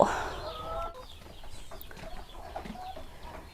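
Several egg-laying chickens clucking close by at a home chicken coop in Chaiyaphum, Thailand, with scattered bird calls and farmyard rustling over a steady background.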